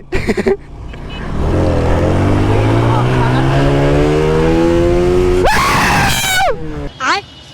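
A TVS Apache RTR 2V motorcycle revs hard, its engine note climbing steadily through a long pull, then jumping sharply in pitch before cutting out, with people shouting over it.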